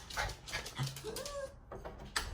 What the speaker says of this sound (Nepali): भुक्नु थाल्यो फेरि